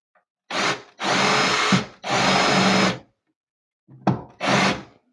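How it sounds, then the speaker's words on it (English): A power drill spins a countersink bit into a Home Depot cabinet during installation, several close loud whirring bursts of about a second each, separated by short silences, with a quick stop-start pair near the end. "Now this one's a countersink. And we're just going to give it a little bzz."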